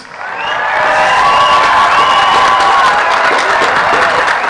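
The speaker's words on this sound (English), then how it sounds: "one more round of applause for other graduates" A graduation ceremony crowd swells into loud applause and cheering, rising over the first second, then holding as a dense roar of clapping with whoops and shouts mixed in.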